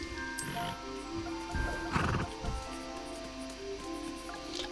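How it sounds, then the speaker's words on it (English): A horse whinnies and its hooves clip-clop in the Hogwarts Legacy video game, a bright neigh near the start and a cluster of hoof thuds in the middle over a steady ambient game soundtrack. "Shadowfax, Lord of the Horses"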